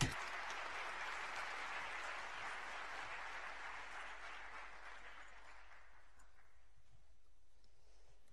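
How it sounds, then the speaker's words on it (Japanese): An audience at a UNESCO world conference on ESD in Nagoya applauds as Princess Lalla Hasnaa of Morocco takes the stage, a broad wash of clapping that starts abruptly and gradually thins and fades over eight seconds. "どうぞ壇上へ皆様方の拍手をお迎えください"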